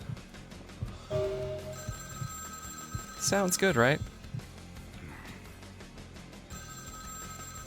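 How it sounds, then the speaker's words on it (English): A telephone rings in the game Vampire: The Masquerade - Bloodlines, with a short burst of electronic trilling rings near the middle over quiet background tones. Someone speaks briefly. "we're gonna ignore the ringing of that phone"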